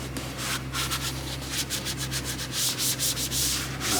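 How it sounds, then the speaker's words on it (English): Steady, close rubbing of protectant into plastic and rubber parts under a car hood, a continuous scrubbing swish with repeated strokes throughout and no talking. "Let's just rub that in there"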